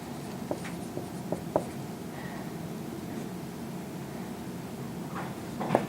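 Chalk taps and scratches on a lecture board as a diagram is drawn, scattered short strokes faint against room noise, with a couple of clusters of quick marks.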